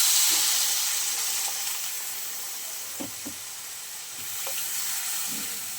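Water poured into a frying pan of katla fish curry sets off a soft, continuous sizzle and hiss, with a few faint clinks near the middle, heard at a moderate distance without voices.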